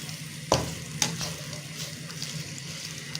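Soft tomatoes and onions stirred in a pan for baingan bharta, with a couple of sharp spoon scrapes and knocks over steady sizzling, close by and alone.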